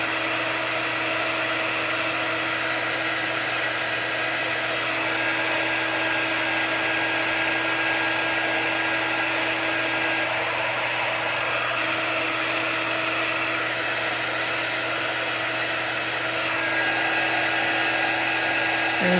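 A hair dryer runs steadily and loudly to dry freshly applied chalk paint on a craft piece, a continuous motor whine and rushing air holding an even level without pauses or talk.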